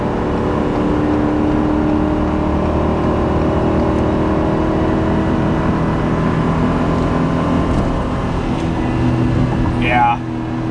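A Ford F350 with the 7.3L engine hauls a heavy load up a highway incline, giving a steady loud drone of engine and road noise held in gear throughout, with a brief faint chirp near the end.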